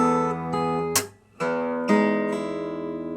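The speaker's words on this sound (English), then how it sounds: "we're going to be using the hammer-on technique, which is basically playing the note without my right hand in use." Electric guitar notes sounded by hammer-ons with the fretting hand and no picking, as a few sustained, ringing tones close up. A brief pause falls midway, and nobody speaks.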